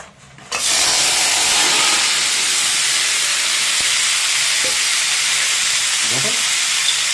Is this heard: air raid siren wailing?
no